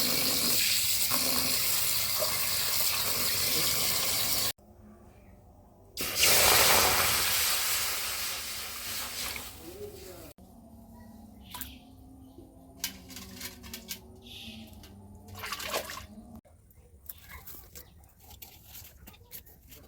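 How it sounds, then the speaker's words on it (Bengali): Chopped pumpkin greens and jackfruit seeds being washed in a village kitchen, first a loud steady rush of pouring water, then quieter splashing and sloshing with irregular clinks and splashes. "এগুলোকে ধুবো এখন, ধুয়ে তারপরে রান্নার কাজ শুরু করব"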